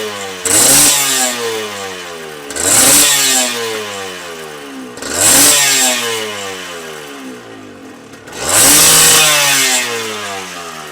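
A Honda NSR 150 two-stroke motorcycle on its stock exhaust is revved four times from a crackling idle. Each rev rises to a loud, raspy two-stroke wail and then falls back, with no one speaking.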